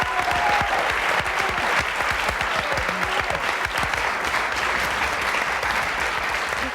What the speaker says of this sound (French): On va applaudir Sim, alors.